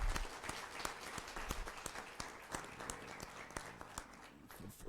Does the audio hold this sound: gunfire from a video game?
no